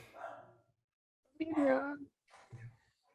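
A dog gives two or three short barks, fairly close, with quiet gaps in between and no talking over them.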